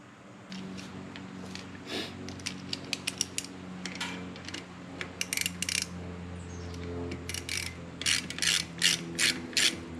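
Ratcheting tool tightening Trask clutch power plate bolts on a Harley-Davidson, with a series of fast clicking strokes in bursts, close and clear over a faint background hum.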